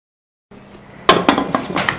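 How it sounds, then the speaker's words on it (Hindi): A metal lid clanks down onto a pot of beef biryani, followed by a few more clattering knocks of cookware, close by in a quiet kitchen. "अब इसको ढक्कन लगाते हैं।"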